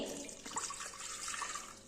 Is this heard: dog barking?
no